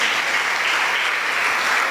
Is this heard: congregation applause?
yes